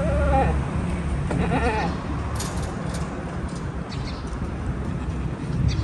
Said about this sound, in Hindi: ये बकरी देखा ना पीछे पीछे आ गया, अब इधर बैठ गई है।